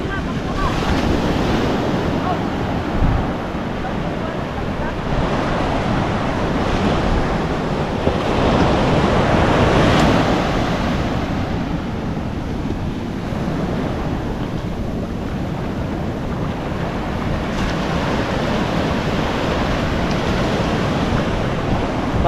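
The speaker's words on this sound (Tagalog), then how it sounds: "Maalon kasi maalon at saka malalim." Rough sea waves surge and crash continuously with strong wind buffeting the microphone, a loud, broad roar that swells and eases, with faint voices at times.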